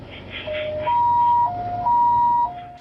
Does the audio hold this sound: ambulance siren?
yes